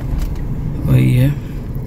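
A car approaches head-on along a road near a petrol pump and roadside dhaba, a brief swelling engine rumble that rises and fades under ongoing talk.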